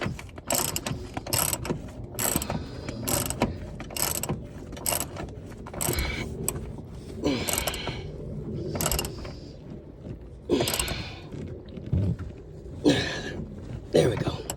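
A ratchet wrench clicks in quick, repeated bursts as a bolt is tightened on the rear strut of a 2000-2005 Mitsubishi Eclipse convertible, close and mechanical with short pauses between strokes.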